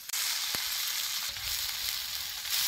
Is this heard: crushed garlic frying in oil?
yes